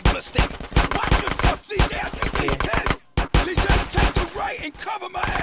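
Rapid gunfire in GTA San Andreas, a dense, close burst of automatic shots that rattles on almost continuously, broken by two brief pauses, with scattered game effects mixed in.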